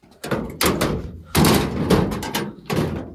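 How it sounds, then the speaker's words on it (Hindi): A door is shut in a house, giving several loud, close thuds and bangs in quick, uneven succession as it is pushed closed and rattles in its frame. "बंद करता हूँ मैं दरवाजा, फिर ना भाग।"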